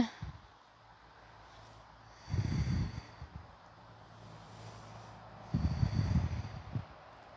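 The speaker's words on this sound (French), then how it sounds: "Reprends quelques respirations lentes et constantes." Slow, steady breaths during a community yoga session, two long airy exhalations about three seconds apart, close and soft over quiet background hum, with no talking.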